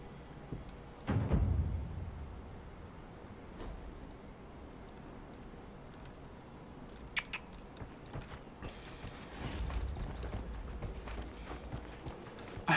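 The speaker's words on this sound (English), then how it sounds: "I have a horse." Faint, steady clip-clop of horse hooves plodding along in a video game, soft and continuous under quiet ambient noise.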